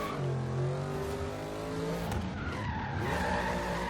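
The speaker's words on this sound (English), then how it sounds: "Like right now, just cruising around drifting." A Hellcat-engined Jeep SRT drifts in Forza Horizon 3, its tires screeching in a long sustained skid over the steady drone of the revving engine, loud and close throughout.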